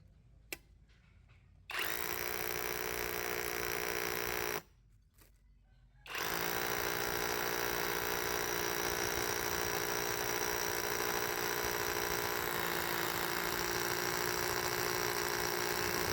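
A DCA ADZC04-24 brushless rotary hammer with a 12 mm masonry bit drills into a concrete block, two loud sustained bursts of steady hammering whine separated by a brief pause, the second run continuing to the end.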